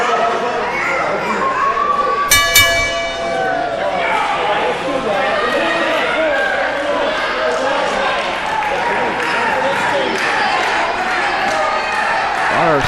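A ringside bell opens a wrestling tag team match at a 2016 ASW show, ringing briefly early on amid a lively crowd, with commentators talking throughout.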